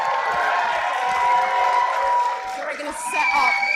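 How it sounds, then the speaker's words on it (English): A chessboxing show audience cheers, whoops and claps loudly as the two fighters leave the ring, a dense, steady crowd roar with scattered shouts throughout. "Let's give them both a huge round of applause as they exit the ring."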